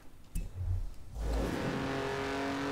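Engine of a 1.5-litre three-cylinder car in Forza Horizon 4 revs up after a brief gap, settling into a loud, steady drone with a rising buzzy tone, alone without talk.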